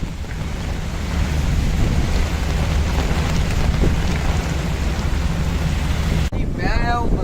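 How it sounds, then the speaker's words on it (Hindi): Heavy rain pours steadily over a market, heard from inside a rickshaw as a dense, loud wash of noise that continues throughout with no pauses. "अभी ना ये ज़बरदस्त किस्म की बारिश शुरू हो गई है।"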